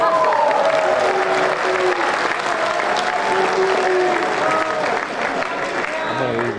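A large audience at a San Diego Comic-Con 2024 panel applauds loudly and continuously, with cheers and whoops rising over the clapping and some voices mixed in.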